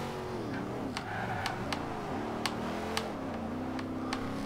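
Engine of a 2014 Chevrolet Corvette Stingray, naturally aspirated, in the racing game Forza Horizon 2, droning steadily with rising and falling revs and several sharp shift clicks, loud and continuous with no talk.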